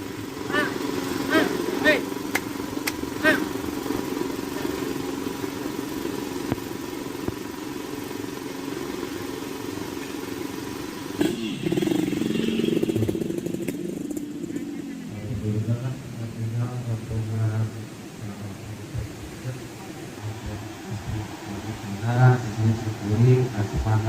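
Motorcycles carrying a village wedding procession hum and rumble as they pass by, with people talking over the traffic noise throughout.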